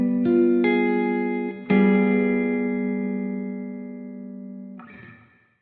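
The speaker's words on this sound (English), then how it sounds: "Dominant chord with a flat 9 sounds like this." Dominant seventh chord with a flat nine on an electric guitar, strummed a few times, then left to ring and decay before a final brief strum, with no voices.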